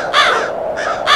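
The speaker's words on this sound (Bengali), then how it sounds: "গাছের কাকগুলি ঘুম থেকে উঠে কা কা করে ডাকছে।" Crows caw three times in loud, harsh, rasping calls close by, in an eerie stormy night setting with no talking.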